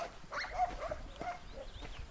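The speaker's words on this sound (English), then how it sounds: "Apart from the barking dogs, it's just idyllic." Dogs bark in a village along a mountain road, a few short yelps and whimpers that sound faint and somewhat distant over quiet background noise.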